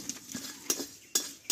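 Panch phoron spices dry-roasting in a pan, with a spoon stirring and a few sharp metallic clinks against the pan, light and close, no talking.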